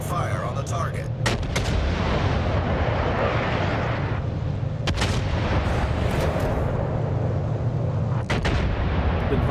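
Naval gun salvos in World of Warships, several sharp heavy blasts spaced apart over a constant loud engine and water roar, with heavy rumbling between shots.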